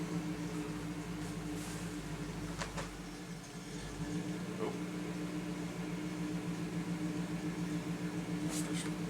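A 1991 GMC Jimmy engine idles steadily and close by, its low hum sagging briefly as the revs drop and then recovering to a constant drone.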